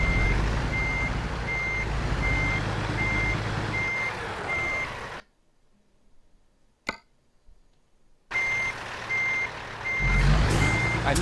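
Peterbilt 387 truck in American Truck Simulator: a low engine rumble under steady, evenly spaced reversing beeps, cutting to near silence midway with a single click, then the engine and beeping return.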